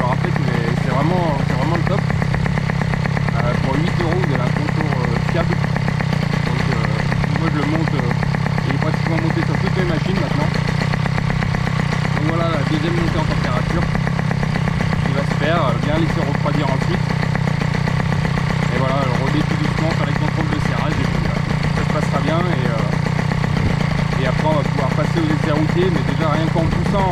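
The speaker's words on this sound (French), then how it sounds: "Voilà, le régime de ralenti s'est stabilisé." A Peugeot 103 moped fitted with a Malossi engine idles steadily up close, its even engine drone running the whole time while a voice talks over it.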